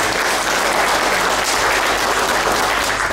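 An audience at a national congress of patriotic organizations in Braniewo, Poland, fills a hall with steady, dense applause. The many hands clap evenly and loudly throughout, and no one speaks.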